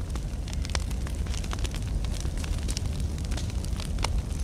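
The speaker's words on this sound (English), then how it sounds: "Place the campfire." A placed campfire burns in a multiplayer video game, giving a continuous close crackle and hiss with scattered sharp pops and no talk.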